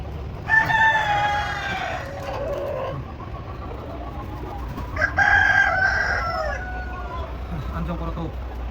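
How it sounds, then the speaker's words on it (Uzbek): An Andijan black rooster crows twice nearby, the long calls a few seconds apart over faint background noise and low murmuring. "Andijon qora tovuq xo'rozchalari qon buzishga."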